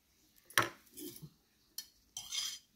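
A spoon scrapes and clinks against a dish while serving sorrel leaf (gongura) chutney onto rice, three or four short close metallic taps and scrapes separated by quiet gaps.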